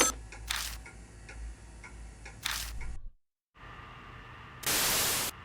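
Radio static in the video game Spirit Hunter: NG, hissing white-noise bursts and crackles that cut out to silence briefly and return with a louder surge of static.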